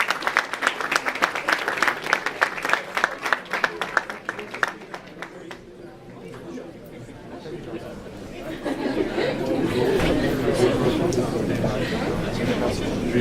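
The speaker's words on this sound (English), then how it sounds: "Round of applause for the Dreamgirls." Crowd applause for the Dreamgirls cast at a university research day, brisk clapping that thins out midway and gives way to a louder murmur of chatter and movement in the room.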